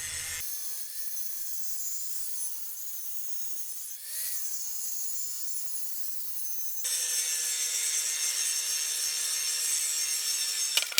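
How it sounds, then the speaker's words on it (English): An angle grinder cuts welding bevels into a steel fly press part in a workshop, a steady high-pitched grinding whine that runs continuously, briefly dips, then grows louder and harsher for the last few seconds. "whilst I have the grinder and the part, I'll quickly add some bevels for welding"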